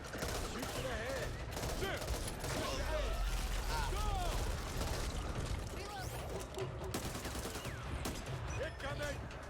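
Dense automatic and rifle gunfire in the zombie shooter Back 4 Blood, near and sustained throughout under a busy mix of game effects with a player's voice.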